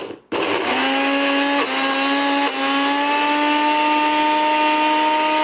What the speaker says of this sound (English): I've just put all of the cauliflower into my NutriBullet, and then I'm just going to blend it up now